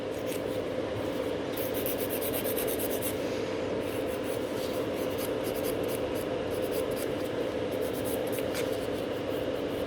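A fingernail is filed with a blue 100/180 grit nail file, giving close, steady scratchy rubbing strokes with a quick, even rhythm.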